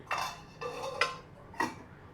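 A lid set onto a pot of Afghani beef pulao, heard as three or four close metallic clanks and rattles of metal against metal, with no talking.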